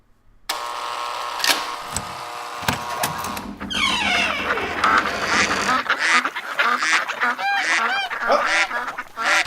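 A live duck or goose honks loudly and repeatedly at close range, a rapid burst of harsh calls with a few scattered clunks and knocks before the honking starts.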